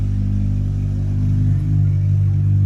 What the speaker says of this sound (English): Ignore that car, man. It sounds terrible.